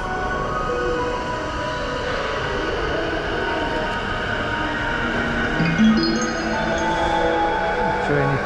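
A JR Yamanote Line train pulls into Takanawa Gateway Station in Tokyo, a loud steady rumble of wheels and motors filling the platform throughout, with a faint squeal rising near the end.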